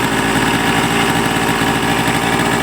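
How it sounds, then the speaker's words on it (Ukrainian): A small scooter engine idles steadily nearby, a rapid even putter with a slight vibrating rattle. "Мотор робить, можна сказати, ідеально, без стука"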